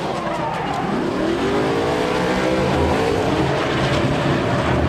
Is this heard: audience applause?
no